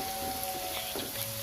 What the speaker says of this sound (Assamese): পিয়াজখিনি ৰঙচুৱা হোৱালৈকে ভাজিব লাগিব